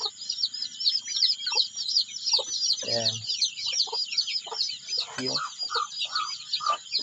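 Rhode Island Red hens cluck and chirp in soft, irregular bursts, with a steady high insect-like drone behind them and a brief voice partway through.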